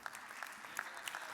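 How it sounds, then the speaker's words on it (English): A short burst of audience applause at a sustainable-agriculture solutions conference as a university participant comes up to ask a question, fairly faint with scattered distinct claps. "A round of applause for him as he comes."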